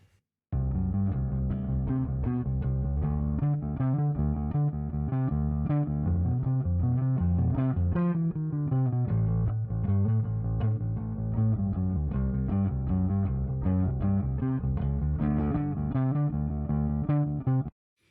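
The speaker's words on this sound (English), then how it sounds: "you can hear this slight distortion on the bass as well" A bass guitar plays a steady, driving line of picked notes with a gritty, slightly distorted tone, solo and fairly loud.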